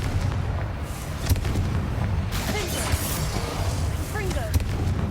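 Confringo fire spell blasts in the Hogwarts Legacy video game, several sharp booming pops scattered through a dense battle din, with voices speaking over the clamor.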